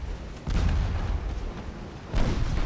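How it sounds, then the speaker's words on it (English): Heavy battleship main battery guns fire in the naval game Ultimate Admiral Dreadnoughts, two deep booming salvos with rumbling tails about two seconds apart, loud and close, with no talk. "My main rounds from all the main battery rounds from the battleships are just barely missing"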